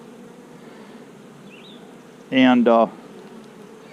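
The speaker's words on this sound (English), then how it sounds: "the temperament of these bees aren't bad at all" A steady, soft drone of honeybees hums around an open hive, continuing throughout with a brief spoken word cutting in over it near the middle.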